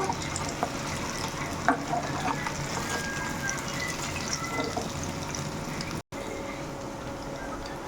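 Lentil dumplings (bori) sizzle steadily in hot oil in a honeycomb wok, a continuous close frying hiss with light stirring and a brief dropout near the end.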